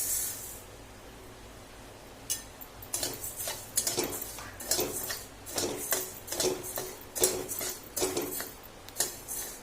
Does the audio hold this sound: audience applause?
no